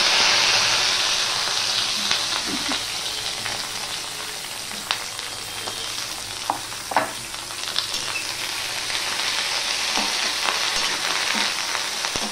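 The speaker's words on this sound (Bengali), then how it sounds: "এবার ভেন্ডিগুলো আমি ভেজে নেব।" Sliced okra frying in hot oil with no salt or turmeric, giving a continuous bright sizzle with occasional soft stirring clicks throughout, close and steady.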